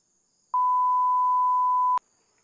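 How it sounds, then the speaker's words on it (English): An answering machine gives a single clean electronic beep, a pure steady tone lasting about a second and a half that cuts off sharply, with near silence around it. "Leave a message after the beep."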